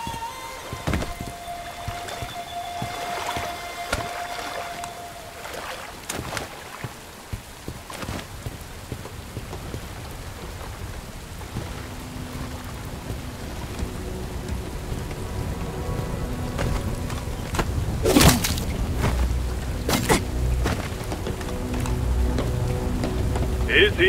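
Steady rain hisses across an outdoor scene in the video game Bright Memory: Infinite, with a tonal hum early on and loud, sharp crackling bursts near the end that could be thunder or combat, all without speech.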